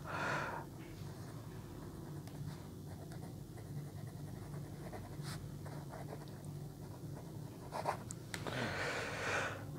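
A fine-nib Airmail Wality 69P piston-filler fountain pen scratches across notebook paper in faint, close strokes over a low steady background hum, with a brief breath or rustle at the start and end.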